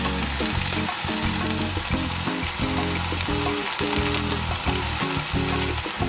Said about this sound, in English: some of the vegetables, especially mushrooms, will start to absorb some of the oil.